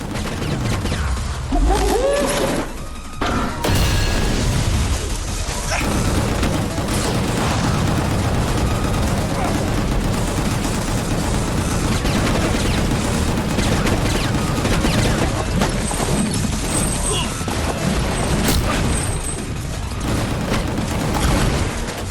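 Sustained gunfire in the shooter game Gungrave GORE, dense and loud with heavy booms and rapid bursts running nearly unbroken throughout.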